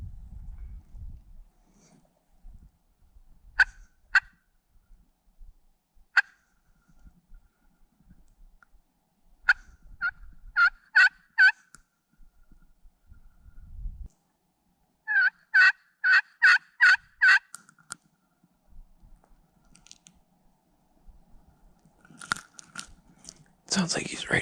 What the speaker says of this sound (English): Just got one to gobble. I think he's in the field.